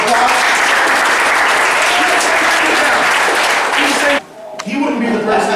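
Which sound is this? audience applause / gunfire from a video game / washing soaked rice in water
audience applause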